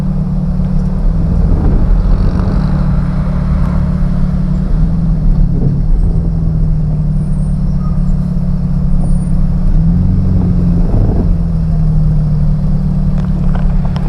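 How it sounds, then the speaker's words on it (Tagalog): Steady, loud engine rumble from cars idling and creeping forward in a long traffic jam on a road in Victoria, Laguna, with occasional rising and falling engine tones and brief air-brake-like hisses, and no speech. "Yan traffic pa rin."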